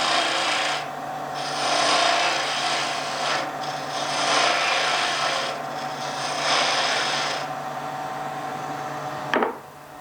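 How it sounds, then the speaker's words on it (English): Spindle gouge cutting timber on a wood lathe: a steady, loud rasping shave that swells and eases in several passes, with the turning tone underneath and a brief knock near the end. "I've got a spindle gouge which I can use to get most of this timber here away."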